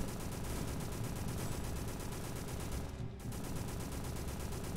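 Rapid, evenly spaced gunfire from a horror video game runs loud and unbroken, with a brief dip in the barrage partway through.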